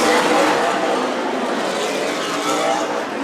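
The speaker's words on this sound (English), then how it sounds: "Oh, John Moore just drove by Jeremy Doss." A race car roars past at Stockton 99 Speedway, a loud, continuous rush of engine noise that swells and fades slightly while a commentator talks over it.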